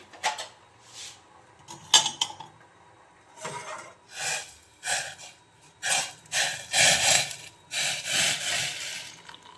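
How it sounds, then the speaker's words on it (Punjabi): Used tea leaf mixture from a kitchen pan being scooped and poured into a vessel, a series of soft scraping and rubbing bursts against metal, close and fairly quiet, with no talking. "ਇਹਨੂੰ ਆਪਾਂ ਕਿਸੇ ਬਰਤਨ ਦੇ ਵਿੱਚ ਪਾਉਣ ਲਾਂਗੇ"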